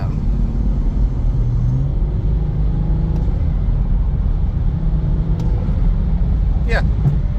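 A Gen 1 B58 engine fitted with a B58 Racing titanium intake drones loudly and steadily up close, with a low rumbling note running under a person talking.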